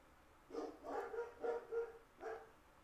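Dogs barking in a short burst of about five yips and barks, fairly distant and quiet against a low background hum.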